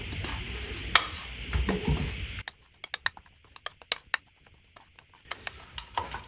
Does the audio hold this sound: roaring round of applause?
no